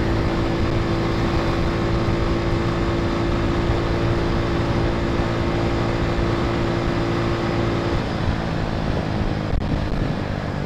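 A carburetor motorcycle engine being tuned runs close and loud with a steady, unbroken drone that holds an even pitch throughout, with no talking.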